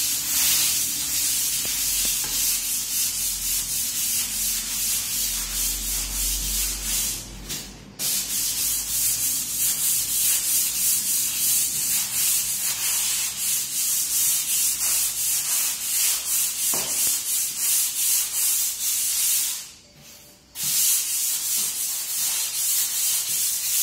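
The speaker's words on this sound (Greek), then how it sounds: "θα πάρουμε τώρα το τριβείο χειρός και θα σβήσουμε αέρα όλες τις γραμμές που έχει αφήσει το χαρτί" Continuous rough whirring and scraping of a hand sander on a wall, steady and fairly loud, with two brief pauses where it lifts off.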